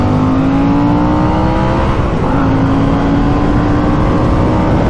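A 2021 Harley-Davidson Sportster S engine drones steadily while riding in third gear on the Sport map, a loud continuous rumble with a rising pitch and a brief dip midway as the gear changes.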